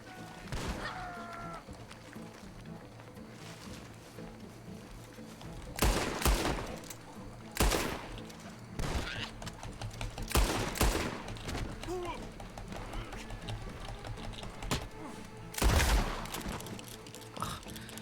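Bursts of gunfire in a Red Dead Redemption 2 shootout, several loud volleys and single shots scattered over a quieter game soundscape of background music and ambience.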